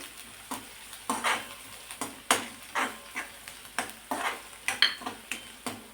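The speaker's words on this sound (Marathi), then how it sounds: "आता यात आपण आलं आणि लसूण टाकणार आहोत, असा थोडासा जाडसर वाटलेला। तो सुद्धा परतून घेऊ।" Coarsely ground ginger-garlic paste sautéed with onion in a pan, a utensil scraping in steady regular strokes about twice a second over low sizzling, close by and without speech.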